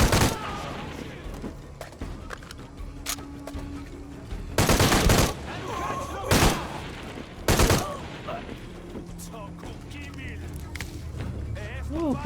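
Gunfire in the video game Shadow of the Tomb Raider, several loud bursts of automatic shots spaced a second or two apart over ambient game noise, with a player talking in between.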